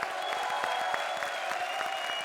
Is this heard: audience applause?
yes